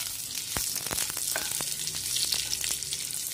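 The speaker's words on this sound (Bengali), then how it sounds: "কাজু কিশমিশ অর জো পকে হুয়ে মির্চ হতে হে ইসকো ডালনে কে বাদ ফ্রাই কর রহি হুঁ থোড়া সা" Cashews, raisins and ripe red chilies, added after cumin, frying in hot oil in a pan, giving a constant close sizzle with scattered small pops and stirring clicks throughout and no speech.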